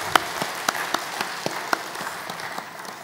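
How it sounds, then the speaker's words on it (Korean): A church congregation applauds the choir after a sung worship piece, with a moderate, crackling patter of many hands and a few sharper individual claps standing out, heard close and without voices. "우리 감사하고 격려하는 마음으로 같이 한번 박수하겠습니다."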